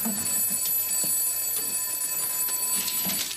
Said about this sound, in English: I heard the phone ringing